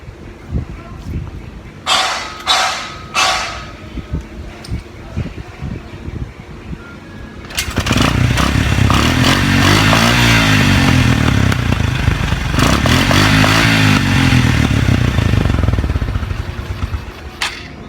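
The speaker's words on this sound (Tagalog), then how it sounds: "paparinig ko sa inyo yung tunog na palyado" A motorcycle engine misfires, idling with uneven pops, then revs hard twice, the roar stuttering and sputtering rather than running smoothly.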